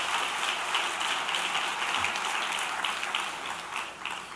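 An audience at a speech by a Maryland governor breaks into applause: a steady, dense wash of many hands clapping that holds evenly throughout, with no voices over it.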